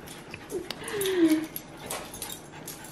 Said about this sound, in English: Y'all, Kash doesn't know how to play with other dogs